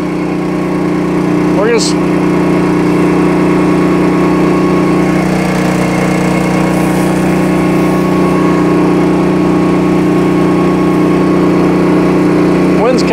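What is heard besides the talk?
power wash trailer 23HP engine running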